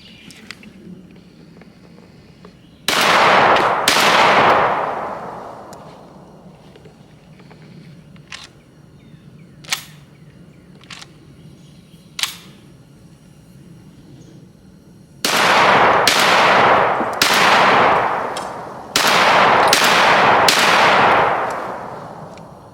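A Mossberg 940 JM Pro shotgun fires outdoors on a freezing morning: a pair of loud, ringing blasts, then a rapid string of five close shots, with faint handling clicks in the quiet gap between.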